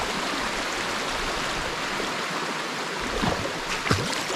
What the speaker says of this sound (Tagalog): Yan pa po yung mga falls oh.